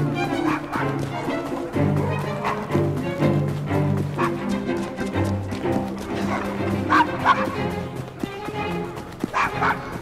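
A dog in Assassin's Creed Syndicate gives several short barks and yips with a whimper, scattered across the scene over an in-game music bed, fairly close and clear.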